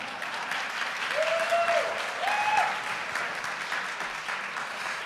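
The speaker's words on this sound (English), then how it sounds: "I'm going to wait for the applause to die down before I continue." An audience applauds at the Inclusive Canada 2017 conference fireside chat, with steady, moderately distant clapping throughout and a couple of brief whoops rising above it.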